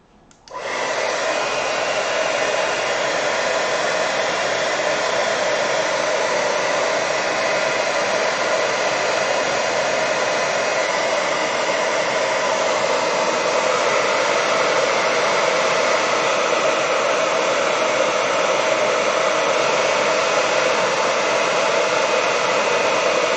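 A hair dryer blows steadily on wet watercolor paint, a loud, even, continuous whoosh that starts abruptly and holds unchanged for the whole stretch, with no talk.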